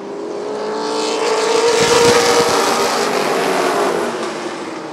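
Late model race cars race at Rockford Speedway, their loud engines roaring as the pack swells past nearby and then fades.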